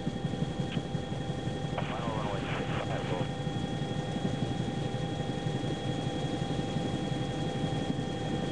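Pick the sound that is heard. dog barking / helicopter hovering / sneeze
helicopter hovering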